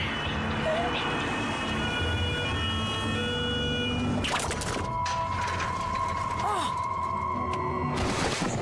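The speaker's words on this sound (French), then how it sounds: "Tu entends les sirènes? Les pompiers arrivent." Fire brigade sirens in a French television drama rising and wavering as they approach, heard over a busy background of mechanical clatter and bursts of noise.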